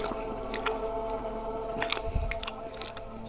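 Close crunchy bites and chewing on crisp fried food, mostly Russell's viper meat: a few sharp crackles and squishy mastication sounds at moderate level over a faint background hum, with no talking.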